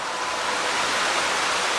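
Acrigg's Falls roars close by, a loud, steady broadband rush of falling water with no breaks and no voices.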